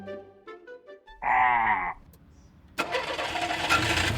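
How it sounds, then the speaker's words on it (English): A cartoon car engine cranks and catches in a short burst, followed by a noisy running rumble, with cartoon voices speaking just before it. "Go, start the engine."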